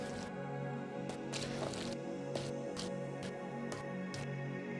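Milk and cheese stirred in a hot pot for a chopped cheese sandwich, a soft rhythmic squishing and wet swishing of about eight strokes, close and quiet, with no talk.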